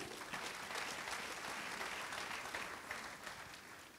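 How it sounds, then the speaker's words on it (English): A church congregation at a healing ministry service claps steadily in a dense, sustained round of applause lasting throughout, with a faint murmur of voices mixed in. "Let us clap for Lord Jesus."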